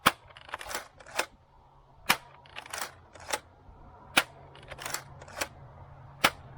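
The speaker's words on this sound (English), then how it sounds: "It's not like I'm shooting really crummy darts out of this thing." A toy blaster firing Elite foam darts, a dozen or so sharp close clacks spaced unevenly, some paired in quick doubles, with near silence between.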